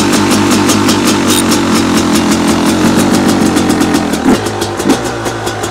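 A new 2024 Beta 300 RR two-stroke dirt bike engine idles loud and close, with a steady burbling, popping rhythm and a slight dip and recovery near the end.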